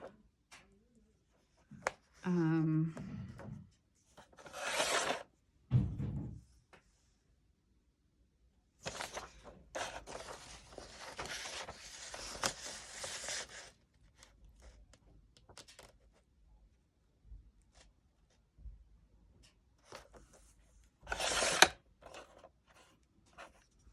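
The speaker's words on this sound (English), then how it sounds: "I'm just going to trim the edges of these down" Scissors trimming the white edges off printed paper pages for a junk journal planner, close snips and slides separated by quiet pauses, with some paper rustling and no talk.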